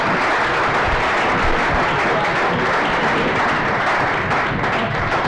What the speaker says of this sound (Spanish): un fuerte aplauso y muchas gracias por haber estado aquí